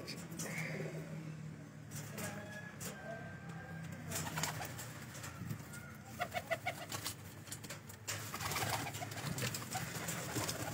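Kamgar pigeons on a rooftop coo softly in a low, throaty rhythm, with a louder burst of cooing midway over faint ambient background noise.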